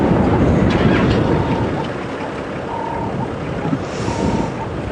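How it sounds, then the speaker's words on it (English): Strong wind buffets the microphone on an open vehicle during an afternoon safari drive at Djuma Game Reserve, a loud continuous rumbling roar that gusts and eases slightly with no talking. "Oh, this wind!"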